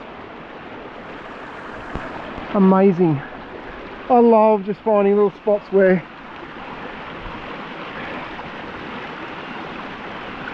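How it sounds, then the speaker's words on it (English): A small creek meanders out of a forest at a bush camp in New South Wales, a steady, close rush of flowing water running throughout while someone speaks briefly over it. "It just turns into a little creek meandering out of the forest."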